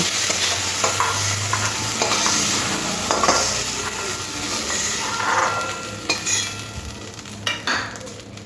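Prawns coated in salt and turmeric fry in hot oil for a Bengali lau chingri dish, giving a steady, close sizzle throughout with intermittent scraping and clinks of stirring.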